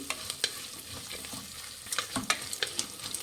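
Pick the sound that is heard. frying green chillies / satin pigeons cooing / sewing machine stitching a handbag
frying green chillies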